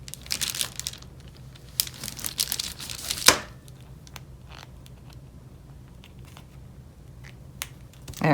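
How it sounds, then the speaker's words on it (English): An X-Acto knife cuts through a pliable resin tarot card mold, giving close crinkling and scraping rasps, a sharp snap partway through and quieter scattered clicks. "I think I can get even closer to the edge if I use my X-Acto knife"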